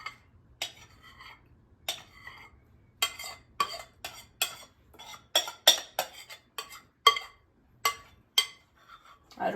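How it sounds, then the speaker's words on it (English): A spoon scrapes down a bowl to add the mixture to penne pasta, giving a series of close, sharp metallic clinks and scrapes in an irregular rhythm with quiet gaps between. "I really scrape down the bowl and get all the goodies out of the bowl to put on the pasta"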